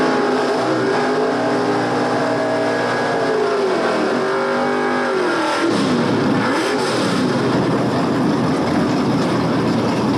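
Drag racing cars at Shadyside Dragway, including a 1967 Camaro and a big Pontiac wagon, roar loudly and steadily close by, with engine pitch rising and falling through revving and acceleration.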